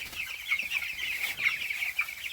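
Chickens cluck in a coop, a steady run of close, overlapping clucks and calls throughout with no talk.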